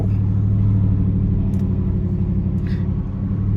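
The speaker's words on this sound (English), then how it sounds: "the exhaust is a factory exhaust, so it sounds pretty mean already just from the factory" Steady low exhaust rumble from a 2020 Ford F-150 Roush Nitemare Edition pickup with its factory exhaust, a deep continuous drone at idle, loud and close, with no clear revving.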